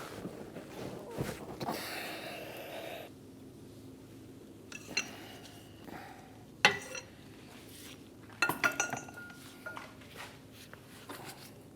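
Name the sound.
wrench breaking free 12 mm hub bearing bolts on Hyundai Elantra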